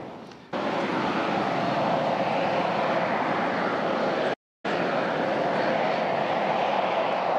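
Loud, steady roar of a Mirage delta-wing fighter jet taking off at Tanagra air base, a broad continuous blast that starts abruptly and holds, briefly cut by a gap of silence before resuming.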